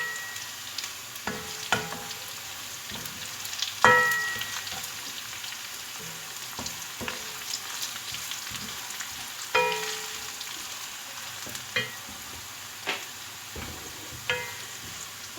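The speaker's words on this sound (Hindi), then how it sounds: "इसमें जो है साबुत गरम मसाला ये सारा ऐड करूँगी और इसको हल्का सा फ्राई करूँगी" Whole garam masala fries lightly in a pan under a continuous soft sizzle, broken by scattered crackles and a few sharp clinks of a spoon against metal, close by and without any talk.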